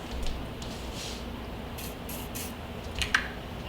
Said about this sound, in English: spray some lubricant on it,